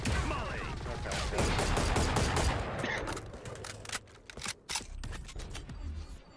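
Gunfire in the video game Valorant during a competitive match, with rapid clattering shots in dense bursts that thin out into sharp single clicks and pops at a fairly low level.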